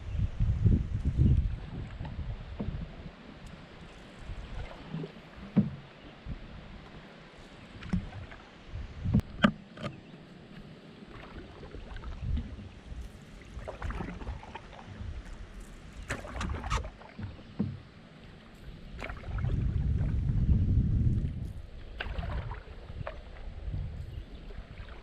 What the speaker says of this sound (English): It's been a nice calm paddle so far.